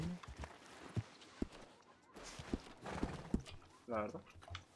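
Horse hooves clip-clop in Red Dead Redemption (RedM roleplay server), a purebred horse moving in irregular thuds with a brief neigh-like sound near the end, under ongoing talk and game ambience.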